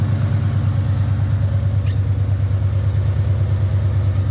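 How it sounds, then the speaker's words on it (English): A 2003 SVT Mustang Cobra V8 with long tube headers, an X pipe and Loudmouth mufflers idles steadily with a deep, loud, throbbing rumble, close by and alone. "Motor sounds good."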